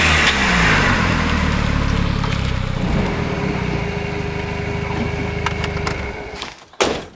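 A Volvo 940 Turbo cruising on back roads, its engine droning steadily from a close interior or onboard position, with road and wind rumble that eases off near the end, no voices.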